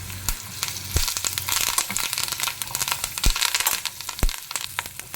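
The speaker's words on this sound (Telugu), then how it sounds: "కొంచెం కరివేపాకు వేసుకుందాం" Curry leaves hit hot tempering oil for raw mango pulihora, giving a loud crackling, popping sizzle with sharp bursts scattered through a dense hiss, close up and without talk.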